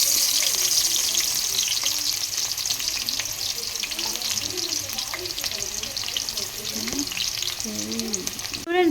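Onions frying in hot oil crackle and sizzle loudly and continuously right up close, with occasional stirring and brief speech fragments threaded through the dense hiss.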